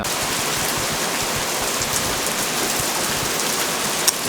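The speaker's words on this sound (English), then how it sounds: "Yep, that's rain." Rain pours steadily during a British August bank holiday at an outdoor oak-frame barn build, giving a dense, even hiss of drops striking surfaces. It is loud and unbroken throughout, with no voices.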